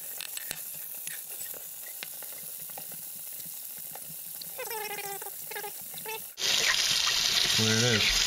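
Warm tap water runs into a sink over etched pint glasses, a continuous splashing rush with clinks of glass, rising louder and fuller after a few seconds.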